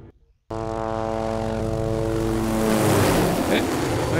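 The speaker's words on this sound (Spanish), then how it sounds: "¿Un helicóptero?" A helicopter in the Dead Island video game starts up abruptly after a brief quiet moment, its rotor and engine drone steady and loud with a strong tonal hum that swells and roughens toward the end.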